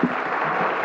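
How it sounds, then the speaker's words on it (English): Members of a parliament applauding during question period, a brief burst of steady clapping heard through muffled, somewhat distant room sound. "I applaud. Please applaud him."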